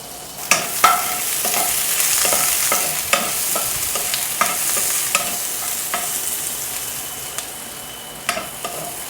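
A utensil scrapes and clacks against a frying pan while onions fry, repeated stirring strokes at an irregular pace over a steady bright sizzle, close and fairly loud with no talking.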